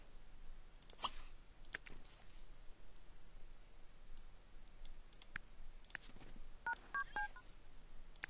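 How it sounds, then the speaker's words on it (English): A phone dials in The Sims 3 game, with faint scattered clicks and a short run of quick dial tones near the end over a quiet background. "Okay, call Silver over."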